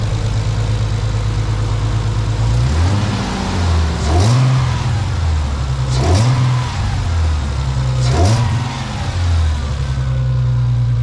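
A Nissan 300ZX engine idles, then revs up and drops back several times in a repeating rhythm, close and loud.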